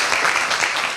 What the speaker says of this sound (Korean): 우리 교역자들 나와주셔서 박수로 맞아주시기 바랍니다